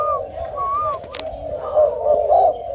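Spotted doves at a bird farm in Ca Mau, Vietnam, coo close by in repeated soft, rolling calls, with a few faint chirps in the background.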